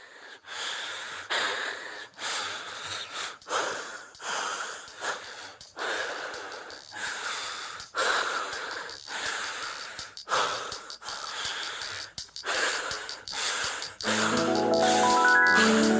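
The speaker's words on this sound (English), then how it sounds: "is basically the sound of him being out of breath from running" Heavy, out-of-breath panting from a man on an album track, ragged and irregular gasps and sighs repeating close up for many seconds, with a music bed swelling in at the end.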